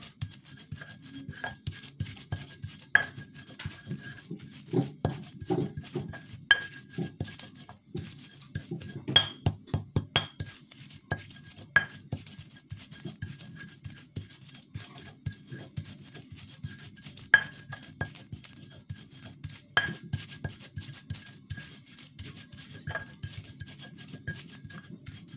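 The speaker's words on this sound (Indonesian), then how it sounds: "Kita ulek bumbunya dulu." Spices pounded with a stone mortar and pestle (ulek) for corn fritter batter, a steady run of scraping rubs and hard clinking knocks at close range, repeated over and over with no talk.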